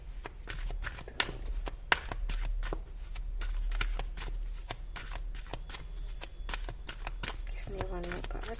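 Tarot cards are shuffled in rapid, crisp riffling flicks that repeat steadily throughout, close and fairly quiet, with a voice speaking briefly near the end.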